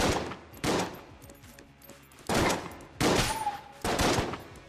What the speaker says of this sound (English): Shotgun basically has a spread shot.